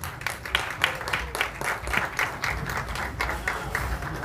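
Audience applause at a live talk session on mental health and wellbeing, a dense crowd clapping steadily and fairly close for several seconds, with no voices over it.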